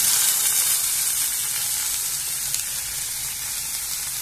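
Tomato pieces frying in a pan with ginger and garlic, a loud, steady sizzle with crackling hiss throughout and no voices.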